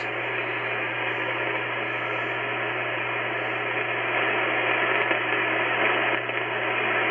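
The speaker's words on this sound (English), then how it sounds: "You can hear the static crashes." Steady radio static hiss from a distant thunderstorm on an IC-9700 radio, with a low hum beneath, loud and continuous, swelling slightly toward the end with no voices.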